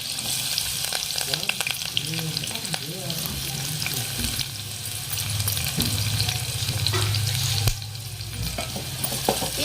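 Chopped onions, coriander and curry leaves fry in a pan with a steady sizzle, punctuated by scraping and clinking stirring strokes, recorded close up for North Karnataka festival cooking.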